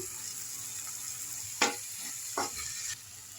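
Onions, coriander powder and chili powder fry in a pan for a fenugreek leaf curry, giving a steady close hiss. A couple of brief scraping stirs cut through the sizzle.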